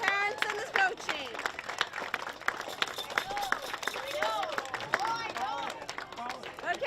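A crowd claps steadily at a boys' under-10 youth soccer final, applause mixed with excited voices, whoops and chatter all around.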